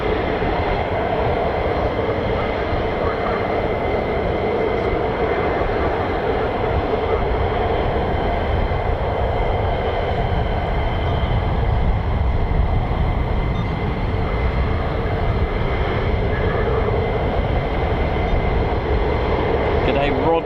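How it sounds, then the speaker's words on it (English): F-35 fighter jets taxi at RAF Lakenheath, a loud, steady broadband roar of jet engines that holds evenly from start to finish, with people talking faintly underneath. "Looks like we've got more F-35s just taxiing."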